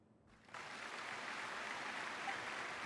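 Applause at a curtain call inside the Genshin Impact video game, starting abruptly after a brief silent moment and continuing as a steady, moderately distant wash of clapping.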